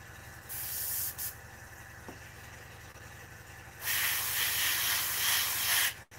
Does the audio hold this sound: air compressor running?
yes